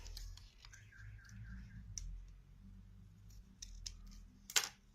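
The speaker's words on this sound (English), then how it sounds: "I'm just going to take it out again and cut it a little bit further up." Scissors snip the tip of a piping bag filled with black squishy inlay material for a phone cover, giving a few quiet close clicks and one sharper cut near the end, amid soft handling noise.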